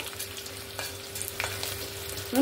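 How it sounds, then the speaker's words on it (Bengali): Whole spices, curry leaves, green chilies and dried red chilies crackle in hot oil, a close, steady sizzle with a few sharp pops and spatters over a brief stretch. "এটাকে সুন্দর করে ভাজা ভাজা করে নেব।"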